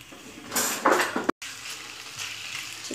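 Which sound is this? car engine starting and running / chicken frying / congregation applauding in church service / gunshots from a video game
chicken frying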